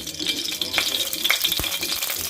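Coconut oil sizzling and crackling in a pan on the stove while preparing Kerala-style chicken korma, a steady close frying hiss with small pops and a brief stir, no talking.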